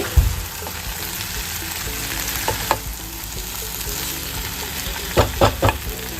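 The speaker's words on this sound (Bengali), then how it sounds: "চাট মশলাটা ভালোভাবে নেড়ে চেড়ে মিশিয়ে দিয়ে" Potato curry sizzles in a pan as a spoon stirs in chaat masala. Continuous close frying hiss is broken by several distinct scraping knocks, with a quick cluster of scrapes near the end.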